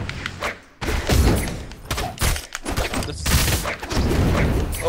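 Repeated heavy thumping blasts from bombs in the video game Brawlhalla, loud and dense, coming in several bursts with short gaps between them.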